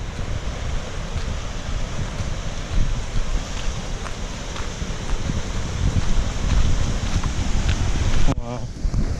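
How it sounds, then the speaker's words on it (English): Water gushes at a large dam in Karnataka, a loud, dense roar of rushing water mixed with buffeting wind noise on the microphone, ending in an abrupt handling bump. "Look at the gushing sounds of water."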